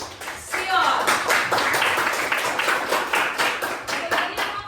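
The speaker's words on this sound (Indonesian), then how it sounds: "Tepuk tangan untuk Sion" Classmates clap for a student named Sion in an Indonesian classroom, a lively burst of many hands that starts about a second in and runs on with uneven, sharp slaps, with voices over it.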